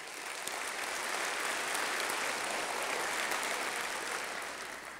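An audience at a 2019 State of the City address gives a warm, sustained round of applause for a city Development Services team, a thick, even roar of clapping lasting about five seconds.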